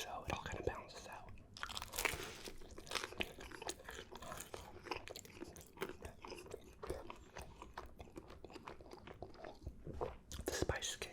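Store-bought Texas toast is bitten and chewed close to the microphone with soft, repeated crunches and wet chewing, broken by brief whispering.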